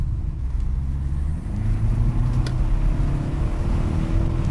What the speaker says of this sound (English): Quite a nice bit of induction sound as the turbo kicks in.